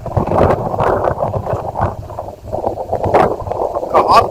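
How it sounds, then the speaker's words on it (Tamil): Strong wind blows at a dam in the Western Ghats foothills, a loud, steady rushing roar with buffeting on the microphone and no gaps. "காத்துதான் பயங்கரமா அடிக்குதுங்க, ஆளை தூக்கிட்டு போற மாதிரி."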